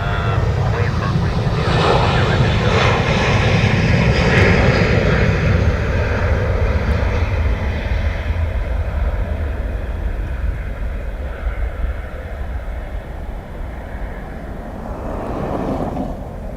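An airliner taxiing slowly past at Dublin Airport, a loud, steady close-range engine roar with a broad rumble that holds throughout and eases slightly toward the end, with voices occasionally audible beneath it.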